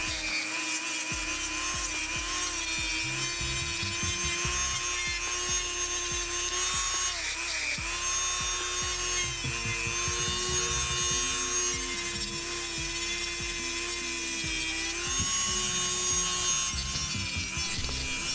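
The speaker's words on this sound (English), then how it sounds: "Here I'm just going to use a fine grit sander on the Dremel just to put a shine on the contact surfaces." A Dremel rotary tool with a fine-grit sanding attachment whines steadily while polishing the contact surfaces of a battery cable lug, its pitch dipping and recovering as pressure changes, with a faint repeated scraping underneath and no talk.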